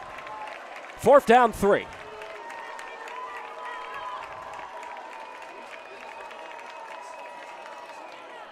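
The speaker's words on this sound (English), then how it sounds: "Homecoming crowd making a little noise" A homecoming crowd at a high school football game, Grand Ledge against DeWitt, keeps up a steady, moderate roar in the stands, with a brief burst of announcer talk near the start.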